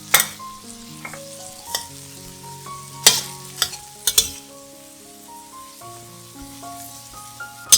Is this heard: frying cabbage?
yes